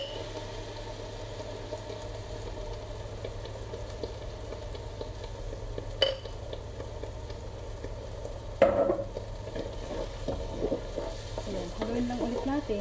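Pasta sauce, two kinds poured over sautéed aromatics for sausage spaghetti, being stirred in a pan with a soft steady sizzle and scraping, a couple of sharper clanks midway, no voices.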